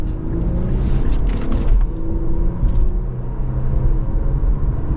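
A 2024 Infiniti Q50 Sensory AWD rolls along with a loud, close road rumble and engine hum that swells and dips briefly as it shifts gears, with no voices.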